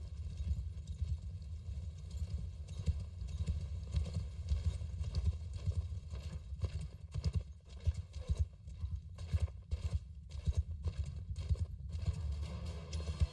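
Many horse archers' hooves clopping continuously on hard ground in the video game Bannerlord, a busy overlapping trot that keeps moving, with occasional faint clatter.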